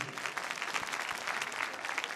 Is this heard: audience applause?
yes